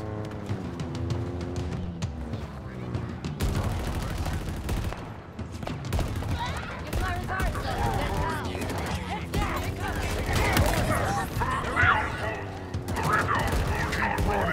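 Sustained automatic fire from a mounted turret gun in Halo Infinite, loud and continuous over a busy battle soundscape, with someone talking over it.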